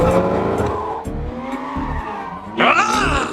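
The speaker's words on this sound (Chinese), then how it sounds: "女人一脚油门踩下去，迈凯伦像一匹猛兽在场地里驰骋" A McLaren sports car is floored and thrown around a track, its engine roaring continuously while the tires squeal and skid, with a sharp burst of louder squealing near the end.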